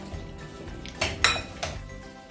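A spoon clinks a few times against a pan as salt is mixed into a Kerala-style chicken fry masala. The metallic taps are close and brief over a quiet background.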